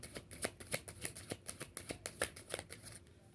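A deck of tarot cards is shuffled in quick, crisp riffling bursts, a steady run of soft, fairly close flutters and slaps with no talking.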